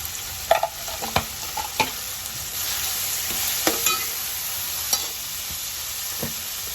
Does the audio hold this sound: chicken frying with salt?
yes